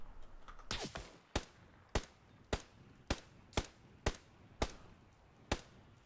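Incoming enemy gunfire in a video game: a quick double crack followed by a steady series of about eight sharp single shots spaced roughly half a second apart, fairly close and clear with no speech.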